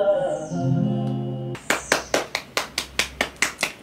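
After a moment of sung music, a single person claps by hand about nine times at a steady, moderate pace, each clap close and crisp.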